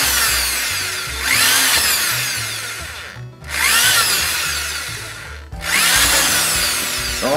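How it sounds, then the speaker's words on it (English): A power drill bores holes through the bottom of a plastic bucket, three loud close whining bursts with brief pauses between them and a grinding, chattering bite as each hole goes through. "drill hundreds of holes in the bottom of one of these buckets"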